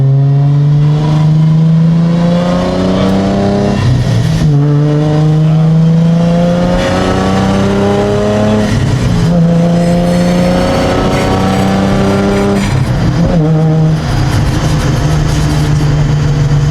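A Nissan 350Z engine revs repeatedly while driving, the pitch climbing smoothly through each gear and dropping at shifts, loud and close from inside the car.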